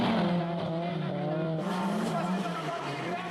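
Two drift cars sliding side by side at a D1SL competition at Maze, engines roaring loudly with tires screeching continuously and close, a commentator talking over the noise.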